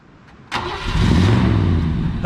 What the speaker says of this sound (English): That car runs good.